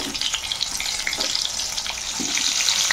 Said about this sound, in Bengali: আমাদের পটল হয়ে গেছে মোটামুটি। ঠিক এইভাবে ফ্রাই করে আমরা নামিয়ে নেব